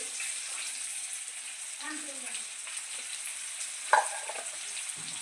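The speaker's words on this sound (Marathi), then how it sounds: "त्यासाठी मी छोट्याशा कढईत तेल गरम करून घेतलेलं आहे. त्यामध्ये लांब पातळ आकाराचे चिरलेले कांदे" Thinly sliced onions frying in hot oil in a small kadai for chilli chicken gravy, giving a steady soft sizzle with a brief clink of a spoon near the end.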